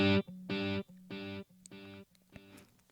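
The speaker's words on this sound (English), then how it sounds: "which is going to make the sound of an overdriven guitar gradually more quiet with each repeat." An overdriven electric guitar chord stabbed hard through a delay effect in a Cakewalk mix, its repeats sounding about every half second and growing quieter with each echo until they fade out.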